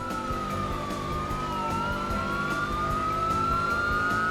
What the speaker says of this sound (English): make sure your ears are prepared to hear sirens and cops' PA messages blaring